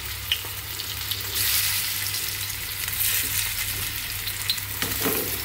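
Poa fish, a pomfret-like fish, fries in hot oil in a frying pan, a steady close crackling sizzle with small spits and pops throughout.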